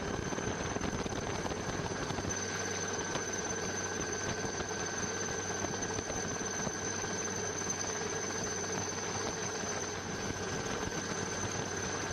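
Navy helicopters drop water on a huge garbage fire at the Brahmapuram waste plant in Kochi, producing a steady, loud rotor and engine drone that fills the whole stretch with no speech.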